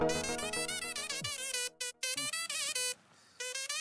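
A melodic electronic phone ringtone plays a repeating tune of bright tones, with brief pauses between phrases and no talking.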